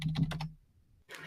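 A few quick keystrokes on a computer keyboard clatter closely, then a short pause before another brief burst of typing.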